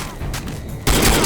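A shotgun fires in a first-person shooter, one short, muffled report that cuts off early and sounds hollow, followed by a louder, broadband burst toward the end.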